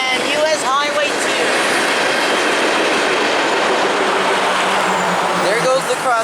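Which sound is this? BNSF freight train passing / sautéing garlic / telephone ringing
BNSF freight train passing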